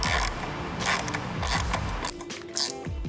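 A Torx bit on a ratchet removing headlight screws on a Jeep, with rapid clicking bursts of the pawl repeating several times, close and fairly quiet.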